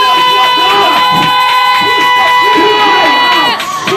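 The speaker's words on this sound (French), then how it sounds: "Acclame très fort pour Jésus." A church congregation cheers and claps for Jesus, a lively crowd roar beneath sustained musical tones that carries on without pause.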